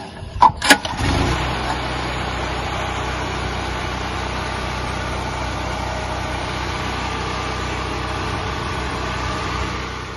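A portable emergency generator gives a few sharp pull-start bursts, then catches and settles into a steady, close, even engine hum that runs to the end.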